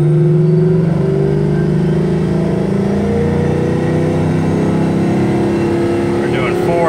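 A car with a Ford 4R200 automatic transmission accelerates on a dyno in second gear, its engine droning loud and steady at high revs, with a rising whine and a voice talking over it.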